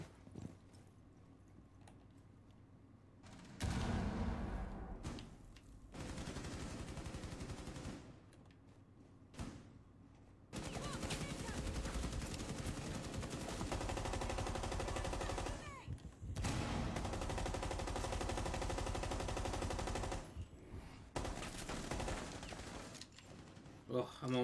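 Rapid bursts of gunfire in a Rainbow Six Siege ranked match, loud and dense across long stretches with short quiet gaps between volleys.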